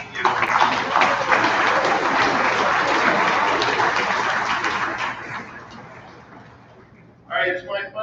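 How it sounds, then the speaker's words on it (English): Students applauding their parents at an academic awards program, full crowd clapping that swells early, holds, then tapers off, followed by a speaking voice near the end. "give your parents or your loved ones a round of applause for doing such a great job raising you"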